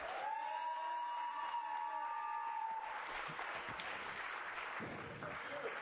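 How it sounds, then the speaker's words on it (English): An arena crowd at a Las Vegas catch wrestling show breaks into loud applause for a wrestler, the dense clapping building after a few seconds of tonal ringing and carrying steadily to the end with scattered cheers. "everybody, please, please, please, give old Chris a big round of applause."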